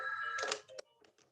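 A telephone rings briefly indoors, a short electronic chime burst lasting about a second, fairly faint and heard without talk.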